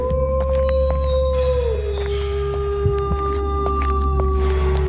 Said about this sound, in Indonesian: Kok suaranya serigala tidak hilang-hilang ya?